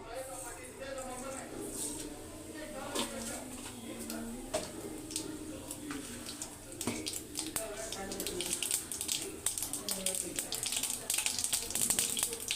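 Mustard seeds crackle and spit in hot oil in a pan on the stove as a sambar tempering gets going, a busy sizzling hiss with scattered sharp pops that grows denser and louder toward the end, under a talking voice.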